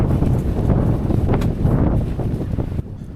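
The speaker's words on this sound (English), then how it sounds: "as you can probably hear from the clip, it had gotten very windy during the night" Strong night wind on the West Highland Way in the Scottish Highlands, roaring and buffeting the microphone in loud continuous gusts, with rustling bursts, easing off abruptly near the end.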